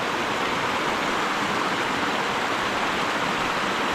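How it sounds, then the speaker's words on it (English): Stream water rushing over rocks at a significant trail crossing on the Cucumber Gap to Little River loop, a loud, steady, broadband roar close by with no talk. "this is a pretty significant water crossing"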